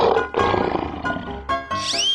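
A lion roars in a loud, close burst of deep, rough roaring broken by brief pauses, ending on a rising strained growl, with no talking.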